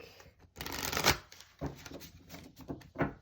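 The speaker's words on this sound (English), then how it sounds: "I do want to give this another shuffle, this deck here really quick." A deck of tarot cards being shuffled close up, in several quick riffling bursts of papery flicking separated by short pauses, with no talk.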